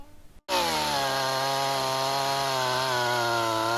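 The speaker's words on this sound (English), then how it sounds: "All of the saws in this review will be cutting the same two white ash logs with an 11-inch log on the left and a 6-inch log on the right." A STIHL MS-171 chainsaw, 31.8 cc and 1.7 horsepower, starts with a short rasp, then screams at steady full throttle cutting white ash logs, a loud close sustained whine with no talking.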